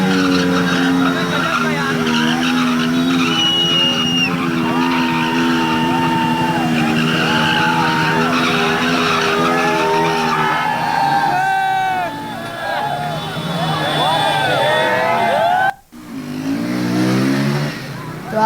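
Sports bikes without number plates perform stunts on a crowded river barrage, engines revving and tires skidding and squealing loudly and continuously, with a large crowd around and someone speaking over it.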